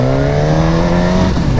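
A Suzuki GSX-S 950 roadster motorcycle accelerates hard, its engine note loud and close with a steady rising drone as the revs climb briefly.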